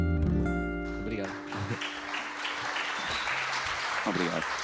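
A crowd at a live journalism show breaks into applause, a steady broadband clatter of many hands that swells behind a voice at the opening and occasional short spoken bursts.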